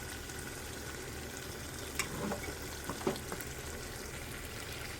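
Fish and prawn pieces fry steadily in a pan, a soft continuous sizzle broken by a few brief scraping stirs as the pieces are turned round with a bowl, with no voices.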